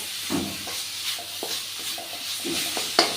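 Kozhukattai filling being stirred in a pan on a low flame, a close soft sizzle under repeated scraping strokes of a spoon and one sharp clink near the end.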